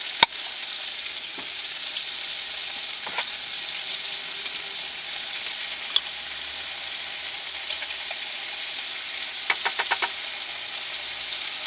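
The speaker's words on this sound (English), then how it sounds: "What I'm going to do now is stir that around, mix it all up together" Pasta and scallops are stirred in a hot pan while cooking in a truck cab, making a continuous sizzle with scraping and light clicks from the utensil, and a brief cluster of taps near the end.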